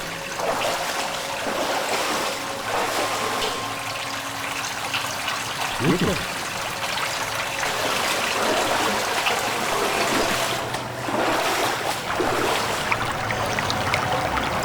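Water runs steadily along a roadside gutter at moderate loudness, a continuous trickling wash that goes on throughout, with a brief louder splash midway.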